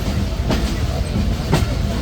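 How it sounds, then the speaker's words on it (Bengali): Barendra Express rolls into Joypurhat railway station, a steady rumble of train wagons with faint wheel clatter and a couple of sharp rail knocks, moderately loud and close, with no voices. "ট্রেনটি প্রবেশ করছে জয়পুরহাট রেলওয়ে স্টেশনে"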